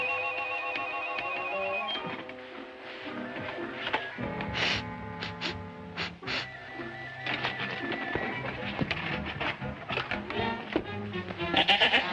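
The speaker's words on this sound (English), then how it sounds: "The goat just went out." Goat bleating amid a busy 1940 Laurel and Hardy comedy soundtrack, sustained tonal bleats mixed with ringing, horn-like noises and clatter, fairly loud throughout without talk.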